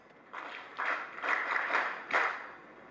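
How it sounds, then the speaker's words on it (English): Audience applause at a bank's business banking launch event, several bursts of clapping swelling and easing over about three seconds, moderately loud with no talk. "A round of applause."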